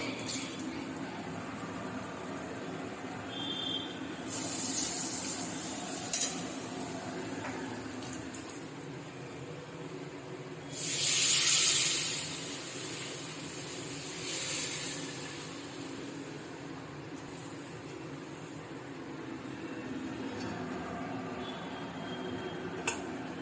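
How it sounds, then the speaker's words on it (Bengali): A pressure cooker, used to boil potatoes and peas for ghugni, lets out short bursts of steam hiss, the loudest about midway, over a quiet kitchen background. "প্রেশার কুকারটা হ্যাঁ।"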